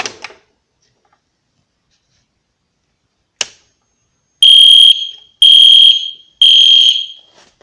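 An EST Genesis fire alarm sounds after key activation, giving three loud, piercing electronic horn blasts in a close, steady on-off pattern, each about half a second long, following a brief click.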